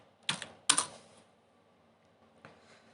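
A few quick keystrokes on a computer keyboard typing a terminal command: two short clustered bursts of clicks, then a single faint tap, in a quiet room.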